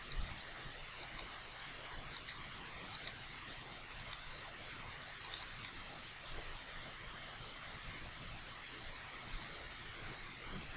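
Computer mouse clicks while selecting parcels in a mapping program, a scattering of sharp, faint single and double clicks spread irregularly over steady background hiss, with no talking.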